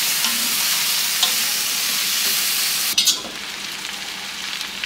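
Washed vegetable pieces frying in a pan, a loud, even hiss of sizzling with a brief clatter of stirring partway through.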